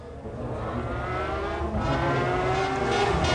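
McLaren race car at Le Mans 1996, engine droning loud and steady, pitch climbing slightly as it accelerates, sustained throughout with no voices.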